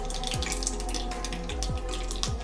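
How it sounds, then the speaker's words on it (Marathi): Mustard seeds crackling and popping in hot oil, a dense close sizzle with quick scattered pops over a low steady hum. "मोहरी इथे छान तडतडतीये।"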